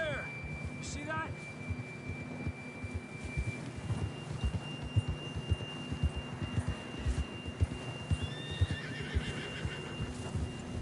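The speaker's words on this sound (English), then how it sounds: "John was riding that horse when we left Blackwater." Horse in Red Dead Redemption 2 whinnying near the start, then steady clip-clop of hooves at a walking pace, moderately close against a faint background tone with quiet voices.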